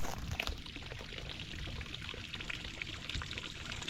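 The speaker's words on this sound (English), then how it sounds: "So you can hear the water coming from the spring." Spring water pours from a wall on a Portuguese homestead, splashing in a steady, continuous stream nearby, with no voices over it.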